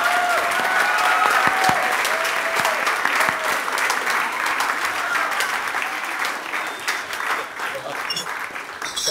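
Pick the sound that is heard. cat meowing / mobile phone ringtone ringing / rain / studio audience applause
studio audience applause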